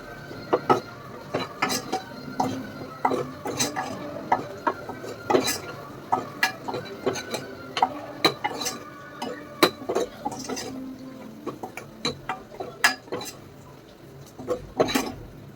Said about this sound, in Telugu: అలాగే పచ్చిమిర్చి కూడా వేసుకున్నాను. ఇవన్నీ బాగా మిక్స్ చేయాలి